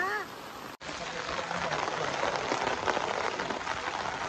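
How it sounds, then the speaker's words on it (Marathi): Rain falling during monsoon rice transplanting in a Konkan village paddy, a dense even hiss of drops that continues after a brief cut and holds steady throughout. "पाऊस गार आहे"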